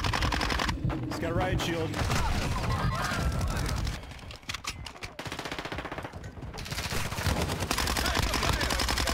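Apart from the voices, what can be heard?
gunfire in a shoot house video game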